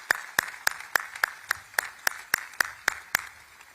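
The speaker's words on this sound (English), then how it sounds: "Please give them another round of applause." Clapping at a military ceremony marking Fort Benning's redesignation as Fort Moore: about a dozen evenly spaced, sharp claps in a steady rhythm, fairly faint and distant, with no talk over them.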